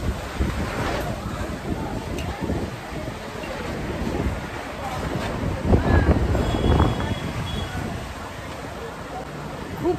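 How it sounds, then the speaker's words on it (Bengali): A midnight breeze blows outdoors in Kolkata as a steady, rushing wind with gusty swells against the microphone. A person speaks over parts of it. "খুব ভাল লাগছে এই হাওয়াটা"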